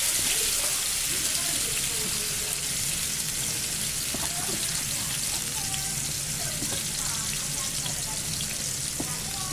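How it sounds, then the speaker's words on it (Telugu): Mutton spleen frying in hot oil over a low flame, a steady dense sizzle and crackle that fills the whole clip, close and fairly loud, with occasional faint clinks and a voice talking softly underneath. "కాస్త ఫ్లేమ్ స్లోగా పెట్టుకొని యాడ్ చేసుకోండి, ఎందుకంటే అది ఆయిల్ అంతా మొత్తం స్ప్రింకిల్ అవుతుంది"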